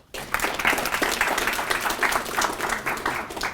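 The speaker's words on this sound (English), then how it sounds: "give him a round of applause" A room of panel forum attendees claps together in a full, steady round of applause, with distinct individual claps audible within the crowd for a few seconds.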